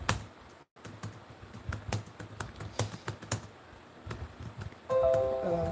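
Rapid, uneven keystrokes on a computer keyboard, fairly close and steady with small pauses, and a brief faint tonal sound near the end; no talking.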